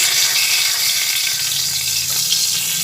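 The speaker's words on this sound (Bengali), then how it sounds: "তেজপাতা আর শুকনো লঙ্কা দুটো একসঙ্গে ভেজে নিচ্ছি" Hot oil sizzles steadily around bay leaves and dried chilies frying, a close, continuous crackling hiss with faint stirring.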